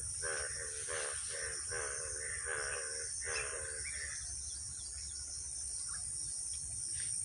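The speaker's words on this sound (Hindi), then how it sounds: "यहाँ पे आप सुन सकते हैं बहुत सारी आवाज़ें पक्षियों की, पिकॉक्स की, फ्रॉग्स की" Village soundscape after rain: a nearby crow caws in a quick series of harsh calls, over a steady high shrill of crickets and insects, with a few faint chirps later.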